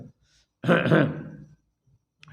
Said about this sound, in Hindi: वो अपना गला ऐसे खखार दे